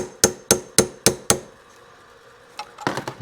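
A sharp chisel hammered into the metal seal band on the fork of a 1971 Kawasaki F7 motorcycle: five evenly spaced, ringing metallic strikes close by, a short pause, then a cluster of lighter clinks and scrapes.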